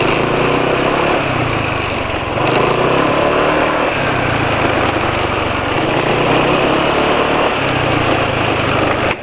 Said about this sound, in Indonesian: motor RPM-nya langsung cepat turun begitu gas dilepas